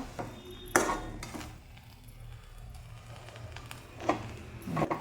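A lid goes onto a pan of semolina upma cooking on low heat, with a sharp metallic clink, a few lighter clinks and rattles, and a low background hum.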